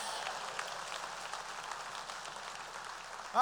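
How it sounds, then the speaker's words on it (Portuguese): Church congregation applauding during a sermon, a faint, distant wash of many hands clapping that holds an even, rain-like texture throughout. "Dá uma salva de palmas ao Senhor"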